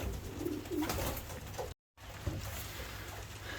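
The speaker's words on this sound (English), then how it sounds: "So he's a fantastic pigeon, very strong, you can see." A strong racing pigeon coos softly nearby, low throaty calls rising and falling over a steady background hum, with a brief dropout near the middle.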